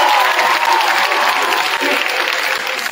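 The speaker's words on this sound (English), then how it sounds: "Go ahead and clap for me right now so I can hear" Students at Bridgewater State University clap together in a gym, loud continuous applause from a large crowd that barely dips before easing slightly at the finish.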